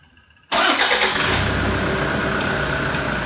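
A Toyota Hilux D4D diesel engine cranks and fires after a timing belt change, catching abruptly after a brief quiet moment and settling into a loud, close, steady idle.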